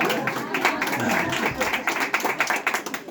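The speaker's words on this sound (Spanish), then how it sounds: "aplauso" Audience in a Mexican gathering clapping for a former municipal president of Guachochi, a lively patter of many hands that grows more distinct and scattered toward the end.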